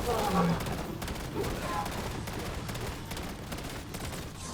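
Rapid automatic gunfire from a weapon in Black Ops 7 zombies mode, a continuous loud stream of shots filling the whole clip against dense game noise.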